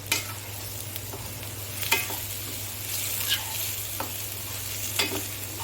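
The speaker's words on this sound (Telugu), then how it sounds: "దగ్గరుండి బాగా వేపుకోవాలండి ఉల్లిపాయ పచ్చివాసన అంతా పోవాలి" Chopped onions with slit green chillies and a little salt frying in a pan: a steady close sizzle with occasional scraping taps from stirring.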